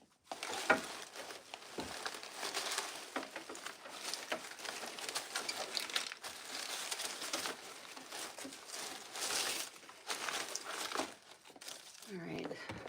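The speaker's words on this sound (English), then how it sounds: "right now I am just cutting up our ficus" Ficus stems being cut up for a wreath, heard as continuous close crinkling and rustling of leaves with scattered snips and rustles that carry on steadily from start to finish.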